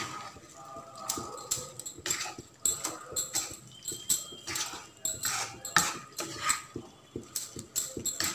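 A spoon scrapes and taps against a pan while carrot, radish, turnip and cauliflower pickle is stirred with melting jaggery over a low flame, giving repeated irregular clinks and scrapes at close range.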